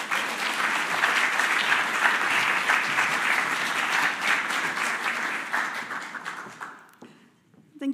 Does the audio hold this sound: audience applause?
yes